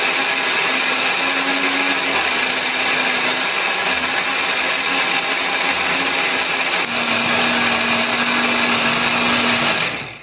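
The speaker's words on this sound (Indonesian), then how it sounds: "ini biar lebih gampang untuk blendernya" A kitchen blender grinds chopped spice ingredients with added water or oil into a smooth paste for a chicken dish, running loud and steady for about ten seconds with a slight drop in pitch partway through before cutting off.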